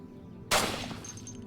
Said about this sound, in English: Hey guys, you like fireworks?